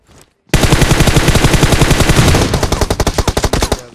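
Intense rapid gunfire bursts during a PUBG Mobile match, a loud dense barrage of automatic shots in quick succession, thinning into distinct separate cracks toward the end, with no talking.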